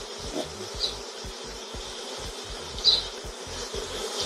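Honeybees from a swarm moving through a garden buzz steadily nearby, a continuous drone with a couple of brief louder passes as individual bees fly close.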